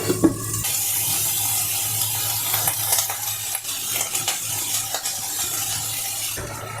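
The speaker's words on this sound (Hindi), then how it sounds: "गाजर और बीन्स एक साथ डालूंगी।" A pot of vegetables sizzles with a steady hiss after carrots and beans are added. A few clinks and stirring knocks sound close by over the continuous frying noise.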